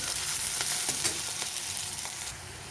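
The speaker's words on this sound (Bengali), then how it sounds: "এবারে আমি কিছুক্ষণ পেঁয়াজটাকে ভেজে নেব এইভাবে।" Onions sizzle and crackle in a hot pan, a steady frying hiss with occasional stirring scrapes.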